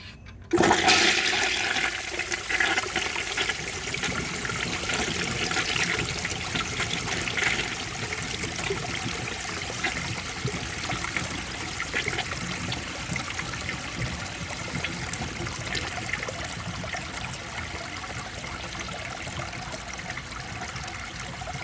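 A 1950s Kohler Trent toilet flushes from a tank filled to the top. After a sharp start comes a steady, loud rush of water that trickles and streams for about twenty seconds, with no voices.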